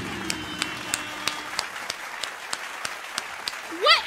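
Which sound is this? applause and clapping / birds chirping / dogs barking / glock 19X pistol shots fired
applause and clapping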